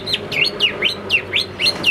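A caged Chinese hwamei songbird sings loud, close, repeated sweeping whistled phrases at a steady quick rhythm, each note sliding down and back up, with no talk over the song.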